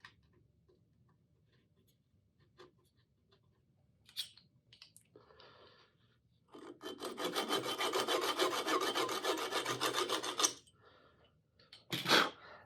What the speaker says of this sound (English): I'm going to use this little saw, and I'm going to cut it off a little bit high.